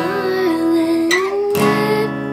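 Acoustic guitar without a capo plays a chord progression, close and loud, with sustained ringing chords and a couple of fresh strums, and a gliding sung melody seems to carry over the top.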